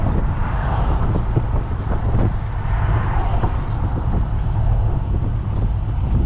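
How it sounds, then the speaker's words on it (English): A steady, low exhaust drone rumbles from a moving 1972 Chevelle convertible, with constant road and wind noise around it. It stays even and subdued throughout. "you can hear it's a quiet exhaust"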